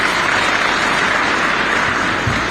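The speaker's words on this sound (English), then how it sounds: "May we clap again for Dr." Dense, loud applause from a crowd at a special university convocation ceremony holds steady and unbroken across the short stretch.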